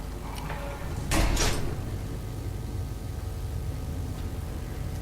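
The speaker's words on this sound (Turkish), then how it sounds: "Açıl, kapı açıl." A door slides open in Fallout: New Vegas, a short burst of sliding noise around one second in, heard over a steady low ambient hum with no speech.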